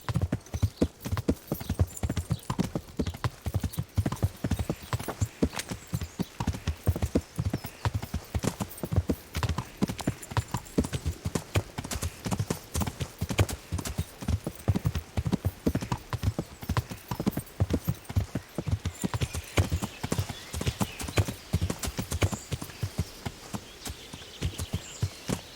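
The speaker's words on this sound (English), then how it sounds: "Come over here, donkey." Hooves clip-clop steadily on the ground as a horse or donkey walks in Kingdom Come: Deliverance, a close, regular stream of dull thuds lasting throughout, with faint ambient background and no speech.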